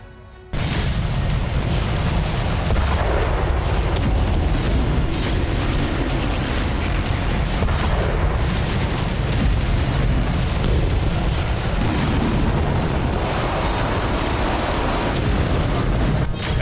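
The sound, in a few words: explosions from Russian weapons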